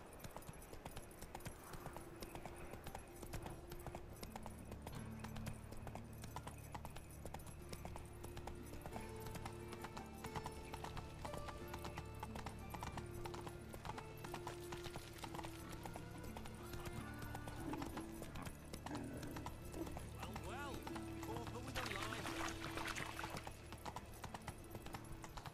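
A horse in the video game The Witcher 3 clip-clops steadily with rhythmic hoofbeats under a low, continuous musical and ambient bed, with faint neighing and a brief rustling burst late on; fairly quiet overall.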